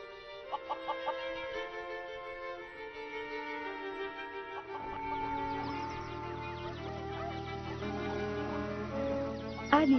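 A rooster's crow rings out amid a busy mix of other farm animal calls, fairly loud, with a deeper rumble joining halfway through.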